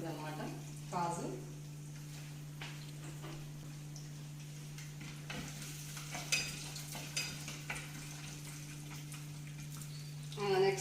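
Peanuts and cashews tossed into hot oil in a pan give faint sizzling and scattered stirring clicks and scrapes over a steady low hum.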